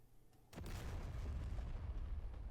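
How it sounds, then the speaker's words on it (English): Bombs dropped from a P-51D Mustang in the DCS flight simulator detonate with a sudden deep boom after a quiet moment, followed by a sustained rumbling roar that stays heavy and low to the end, heard faintly at a distance. "So they exploded back out here."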